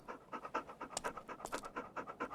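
A dog pants in the vehicle simulation game Stormworks, a quick steady rhythm of about a dozen breathy huffs, close and moderately loud with no other sounds.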